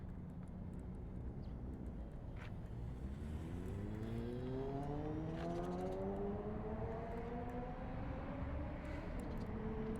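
A Volantex 500mm F4U Corsair micro RC warbird flies in manual mode at 40% throttle. Its electric motor makes a buzzing whine that climbs steadily in pitch over steady background noise.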